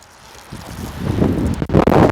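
Gusty outdoor wind buffets the microphone beside a 2022 Honda CR-V Special Edition, building from quiet into loud, rumbling blasts with no voices.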